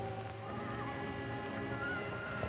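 A horse in an old western film whinnies faintly with a wavering cry, set against a steady low background hum and possible hoof clatter.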